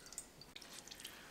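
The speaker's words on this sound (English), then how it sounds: "See how much it drips." Water dripping from a soaked paper towel, a faint, quiet trickle of small drips with no voices.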